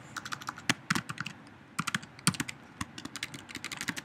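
Typing on a Mac computer keyboard in the Notes app: close, quiet key clicks in uneven bursts with short pauses between them. No one speaks.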